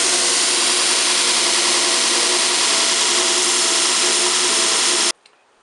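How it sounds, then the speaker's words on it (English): Belt grinder running at full speed with a coarse 40 to 60 grit belt, profiling a knife blade: a loud, steady broadband grinding roar with no break, stopping abruptly near the end. "I've got the grinder in full speed. Use a 40 to 60 grit belt to go ahead and grind your profile."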